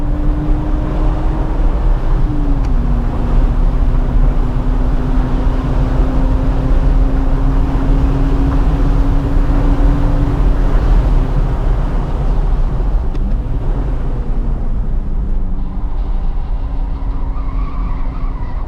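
A BMW E46 M3 accelerates hard down a track straight, its engine a loud, sustained roar with a steadily rising tone and a gear change partway through, heard from inside the car.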